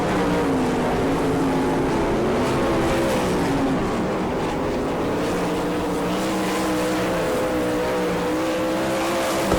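Several 360 sprint cars race on a dirt oval, a continuous loud, near engine roar with steady high-revving harmonic tones that rise and fall slightly as the pack runs, with no talk over it.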